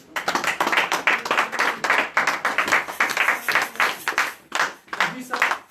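A church congregation at a French-language sermon by a pastor breaks into sustained rhythmic clapping, steady and fairly loud throughout, with voices mixed in beneath it.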